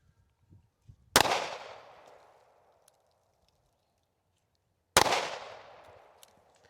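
Two sharp, loud gunshots spaced a few seconds apart at an outdoor range while a red dot optic is zeroed, each crack trailing off in a short echoing decay, with quiet stretches between.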